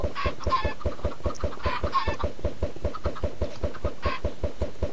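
Chickens clucking in rapid, regular bursts inside a video game, a close repeating cluck pattern with occasional louder squawks layered over it, steady throughout with no talk.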